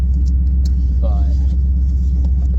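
A deep, steady engine rumble drones low and loud from a car's exhaust, constant throughout with a brief faint higher tone in the middle.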